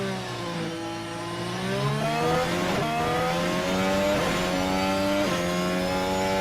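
Several Formula 1 cars roar past on a flying qualifying lap in F1 Manager 24, loud sustained high engine whine with rising and falling pitch as they accelerate and shift, no voices.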